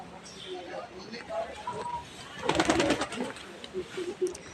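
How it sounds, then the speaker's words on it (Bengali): Pigeons coo softly among pots used as nests in a bird area in Sikkim, with faint, low calls under a person talking nearby and some brief clattering in the middle. "এগুলো পায়রা"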